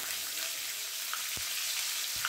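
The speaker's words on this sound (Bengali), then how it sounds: "তেলটা গরম হয়ে গেলেই আমি ব্রোকলিগুলোকে হালকা করে একটু ভেজে নেবো নুন হলুদ দিয়ে।" Broccoli frying in a pan of oil with salt and turmeric gives off a soft, steady sizzling hiss, with a couple of faint clicks from the pan and no talking.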